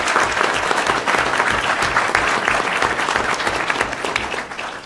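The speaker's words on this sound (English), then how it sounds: "get a round of applause from all of us here today" An audience at a conference kick-off and keynote breaks into sustained applause, a thick, even roar of many clapping hands that holds for several seconds before tapering slightly at the end.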